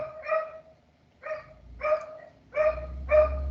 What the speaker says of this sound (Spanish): Qué escándalo esos perros